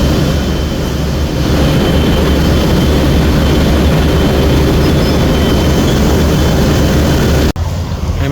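Engine of the river passenger launch MV Kuakata 2 while overtaking other launches, a loud, steady, heavy low rumble with broad roaring noise that continues without a break.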